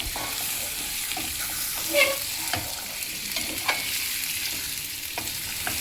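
Goat blood fries in a pan and is cut into small pieces while cooking, a constant sizzle with intermittent scraping and tapping strokes and a brief brighter clink partway through.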